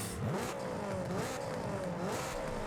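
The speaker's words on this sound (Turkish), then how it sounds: "Baksana geçen Civic'in sesine bak." A modified Honda Civic with an aftermarket exhaust revs in the racing game Forza Horizon 5. The engine note rises and falls in repeated sweeps, loud and steady, with no talking.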